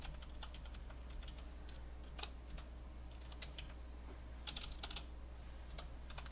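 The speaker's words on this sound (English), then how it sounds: "I'm gonna type this out and then I'm going to explain what it's doing." Code is being typed on a computer keyboard, with steady bursts of key clicks and occasional louder keystrokes over a low constant hum.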